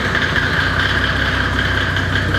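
A Mercedes OM606 turbodiesel fitted in a Datsun 240Z idles steadily and close, a continuous low diesel rumble with a clattering texture and no voices.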